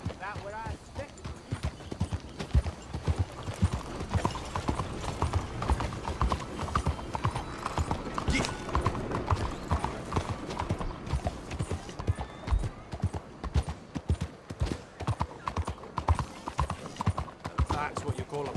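Horse hooves clip-clop in a steady, continuous rhythm in the video game Red Dead Redemption 2, fairly close and constant beneath frequent character talk.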